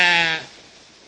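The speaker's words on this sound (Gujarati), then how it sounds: "બકરી કેવું બોલે?" A single goat bleat, loud and close, a wavering nasal call that fades quickly into quiet, with no talking.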